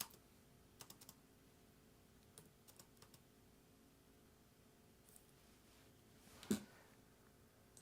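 Faint, sparse keystrokes on a computer keyboard as letters are typed for a sticker design, a few scattered clicks followed by one louder tap near the end, with no talking.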